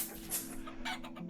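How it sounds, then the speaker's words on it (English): A brooding hen in a chicken coop in the video game Vintage Story gives a few soft clucks, brief and moderately close with no talk. "we see that we have a brooding hen"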